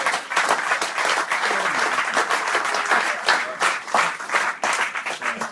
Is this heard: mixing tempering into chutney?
no